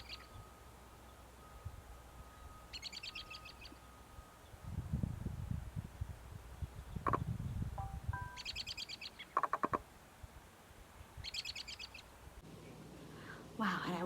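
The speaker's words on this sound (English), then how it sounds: "Let's listen to the robin's call." An American robin calls in bursts of bright chirps and whistled notes, recurring several times over steady background hiss, with some rustling handling noise in the middle.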